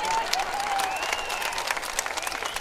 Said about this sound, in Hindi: देखो महिलाएं ताली बजा रही है